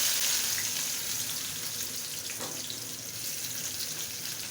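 Chopped onion and garlic fry in hot oil in a pan while jute leaves are being cooked, giving a steady soft sizzle that fades slightly, heard alone without talk.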